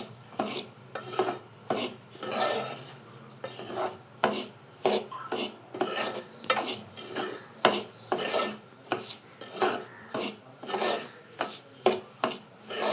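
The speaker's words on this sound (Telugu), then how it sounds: "ఇలా కలుపుతూనే ఉండాలండి, లేదంటే మాడిపోతుంది" Semolina (rava) roasting in a pan for upma is stirred in quick, regular scraping strokes, roughly two per second, close and rasping for the whole stretch, with no talking.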